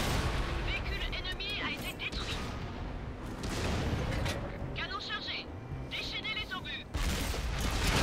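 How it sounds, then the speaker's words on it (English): Heavy tank cannon rounds strike the player's tank in World of Tanks, loud booming impacts and rumbling blasts landing in several bursts while a voice talks between them. "Ooh, what is that shooting me?"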